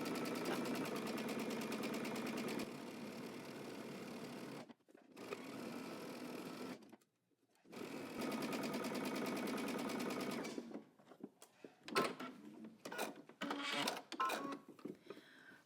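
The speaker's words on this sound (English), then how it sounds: "I'm going to back stitch the beginning and at the end." A sewing machine stitches a seam with back stitching, running in long steady whirring bursts with short pauses, then ending in choppy stop-start bursts, close and clear.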